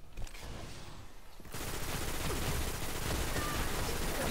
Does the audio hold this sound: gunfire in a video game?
yes